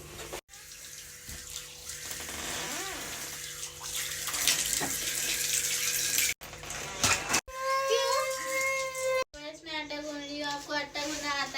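Tap water runs and splashes while fish is washed in a home kitchen, a continuous close gush broken by brief cutoffs, with women's and children's voices talking over it.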